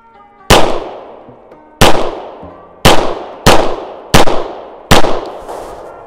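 Six sharp gunshots fired in a hostile-situation shooting exercise, each a loud close crack with a decaying ring, spaced at uneven intervals of roughly a second.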